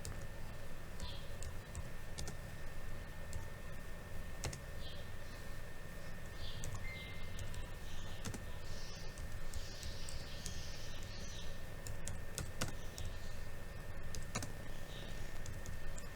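Typing a note on a computer keyboard during SolidWorks drafting: sparse, faint keystroke clicks scattered across the clip under a steady background hiss.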